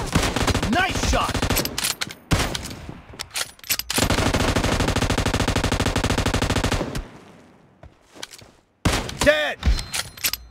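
Rapid automatic gunfire in the mobile battle-royale game PUBG Mobile, long sustained bursts and separate single shots with brief pauses, loud and close, with a player's voice calling out over parts of it.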